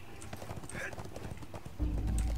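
Rhythmic clip-clop of a horse's hooves at a quick gallop in the video game ArcheAge, close and steady, ending in a louder low rumble.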